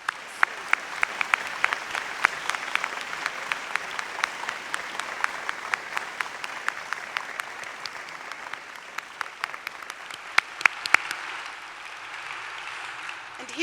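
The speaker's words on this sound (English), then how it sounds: "Let's give her and all her hardworking colleagues a round of applause." A conference hall audience claps steadily for over ten seconds, a dense even patter of many hands with a few louder individual claps, slightly distant and fading near the end.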